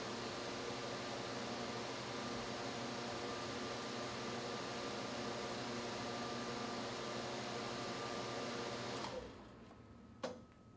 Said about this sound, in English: The compressor should pull a vacuum of 22 inches of mercury within 2 minutes.